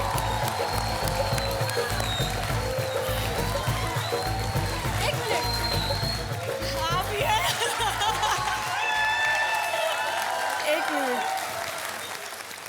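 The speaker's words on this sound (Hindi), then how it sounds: "तालियां!" Studio audience at a televised Hindi game show applauding continuously and loudly, with scattered chuckles and a few voices mixed into the steady clatter of hands.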